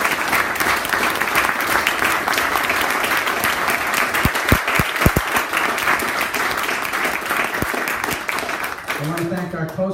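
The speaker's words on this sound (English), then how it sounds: "Let's give them a round of applause." An audience applauds debate candidates with sustained, dense clapping that fills most of the stretch. A voice enters briefly near the end.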